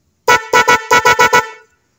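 An imitation snail-type car horn is tested with seven loud, close honks: a single blast, a quick pair, then four rapid toots in a row, each with a bright, brassy tone and no talk.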